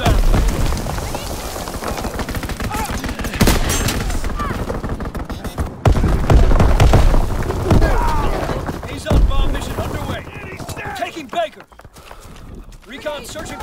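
Rapid bursts of automatic gunfire and heavy explosions from a Call of Duty WWII strafing run crackle and boom in a dense, continuous barrage, with a voice speaking over the battle.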